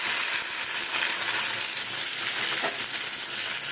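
Hot water is poured into a pan of turnip curry, giving a steady, loud hiss and sizzle that fills the whole stretch without a break.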